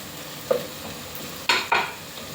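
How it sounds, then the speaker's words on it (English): A spatula scraping through food frying in a pan, three distinct stirring strokes over a soft background sizzle, close and clear. "Now I'll make them golden. Keep stirring."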